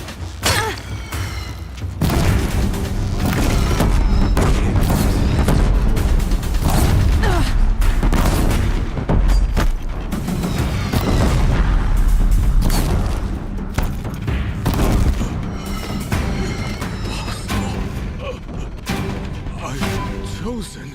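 Deathbringer machines in Horizon Zero Dawn fire in a steady barrage of booms and heavy thuds with explosions and mechanical clatter, loud and continuous throughout, with battle voices over the top.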